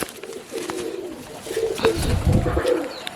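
Pigeons coo in low, throaty repeated calls close by, the rolling notes building louder toward the end with some faint outdoor noise around them.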